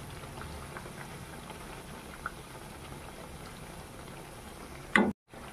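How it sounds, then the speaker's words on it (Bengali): Raw banana pakoras coated in gram flour batter deep fry with a quiet, steady bubbling hiss, with a brief clatter just before the end. "দেখুন আর মুচমুচে করে ভেজে নেব"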